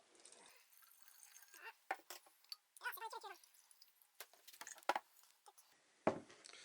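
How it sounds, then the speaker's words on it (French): Water poured onto earthworm castings and soil, heard as soft, intermittent gurgling trickles and splashy bursts, quiet and close with brief gaps between pours, and no talking. "Et donc je vais y mettre de l'eau."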